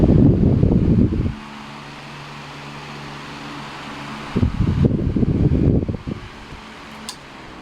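An electric fan switched to speed 1 after repair of a thermal fuse fault gives a steady low hum and whir, broken at the start and again midway by louder bursts of rustling, handling noise.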